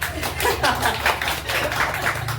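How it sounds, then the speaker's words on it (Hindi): A group of people clapping their hands together at a gathering in Navi Mumbai, a dense, fairly loud and continuous patter of many overlapping claps with no talk over it. "ताली वाली बजा सकते हैं।"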